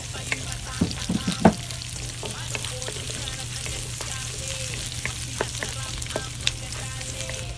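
Garlic and then onion sauté in a pan with a quiet, steady sizzle, broken by occasional clicks and scrapes of stirring and a constant low hum in the background.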